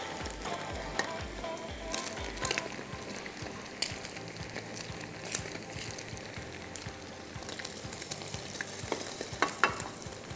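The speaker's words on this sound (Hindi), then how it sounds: "अब इसको मैं एक प्लेट में निकाल दूं और दूसरे 3 अंडे डाल देती हूँ फ्राई होने" Eggs fry in hot oil in a pan, a close, constant sizzle and crackle with scattered spatters and a few stirring knocks throughout, with no voices.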